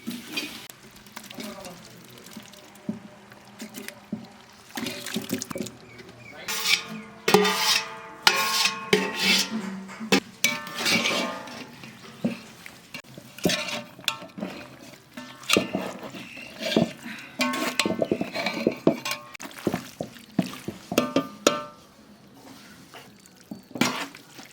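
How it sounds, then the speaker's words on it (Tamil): Soaked lemons for a large batch of lemon pickle go into hot oil with chili powder in a pan, making rasping scrapes, wet stirring and faint sizzling in irregular close bursts. "அடுத்தது ஊற வச்சிருக்க எலுமிச்சம்பழத்தை சேர்த்துக்கலாம்."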